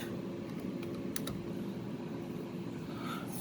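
Scattered keystrokes on a computer keyboard, a handful of sharp clicks clustered early then fading, over a constant low hum of computer fans.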